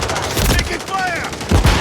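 Gunshots from the video game Modern Warfare 3 crackle close and loud in quick succession, with heavier thumping shots near the end and some tonal game effects mixed in.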